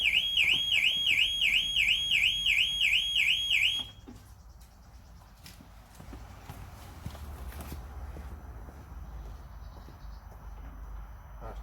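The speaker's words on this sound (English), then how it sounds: "The car alarm is set." Car alarm of a Range Rover Evoque, Sport, Vogue or Freelander 2 with a central locking door lock fault, sounding as a loud, steady warbling siren for about four seconds before cutting off, leaving quiet outdoor background noise.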